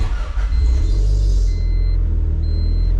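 A turbocharged B18B1 engine in a Honda Civic idles on a dyno while warming up, giving a loud, steady low rumble close by with a faint high whine running over it.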